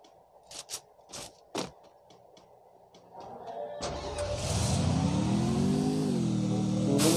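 A motorbike engine in a shooter video game starts with a few sharp clicks, then roars to life and revs upward, the engine note climbing and holding loud and close.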